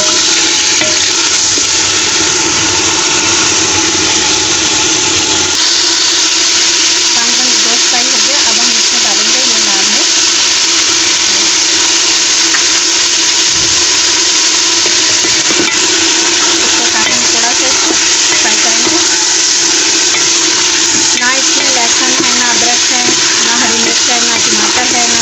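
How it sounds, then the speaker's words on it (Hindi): Beef sizzles in a hot pan, a loud steady frying hiss that goes on throughout with occasional stirring sounds, and a voice talks over it. "और इसको हम थोड़ा सा 5 मिनट के लिए फ्राई करेंगे।"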